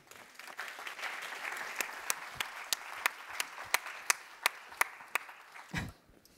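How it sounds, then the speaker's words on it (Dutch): Audience applause for a presenter at an evening talk in Knokke-Heist. A steady patter of many hands includes several sharp, distinct claps near the microphone, and it stops abruptly at the end. "Dames en heren, graag uw applaus voor Jelle Vermeers."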